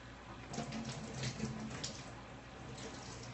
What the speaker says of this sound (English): sanitize my funnel by pouring the sanitizing solution through it